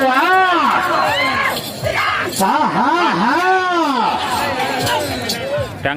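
A crowd yells and cheers loudly at a senior-category bull race at Polatala. Several shouting voices rise and fall over a constant roar for the whole stretch.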